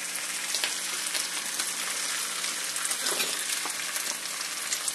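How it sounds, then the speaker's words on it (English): French toast fries steadily in a hot pan, a dense, even sizzle that holds across the whole stretch with small crackling pops scattered through it, close and moderately loud, with no voices. "Now as you fry this,"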